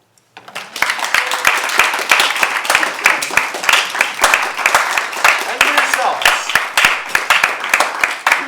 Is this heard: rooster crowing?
no